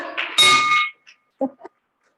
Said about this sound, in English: Seth Butner rings the bell for Seema